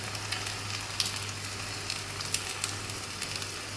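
An egg fries and is stirred in a pan for Malaysian Maggi goreng, a steady close sizzle with soft scraping and faint clicks of the utensil, no voices.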